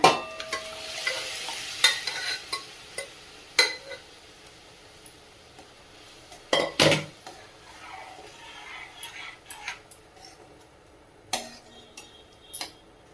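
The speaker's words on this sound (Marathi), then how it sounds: "आता ही घुटलेली डाळ आपण त्यामध्ये टाकून घेऊया।" Mashed dal is poured into hot tempering in a pan and stirred, with a soft sizzle under scattered spoon scrapes and metal clinks against the pan, plus a few louder splashes and knocks.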